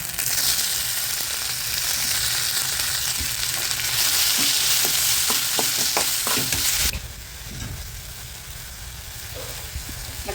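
Tomato sautés with ginger garlic paste in a hot pan, a loud continuous sizzle broken by quick stirring clicks, then dropping noticeably quieter for the last few seconds.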